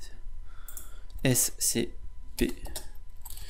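Keys click in short bursts on a computer keyboard while an scp command is typed, with someone talking over the tapping.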